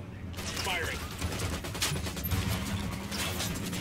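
Gunfire rattles in the video game Ghost Recon: Wildlands as a loud, dense barrage of shots under continuous game noise, with a voice speaking over it.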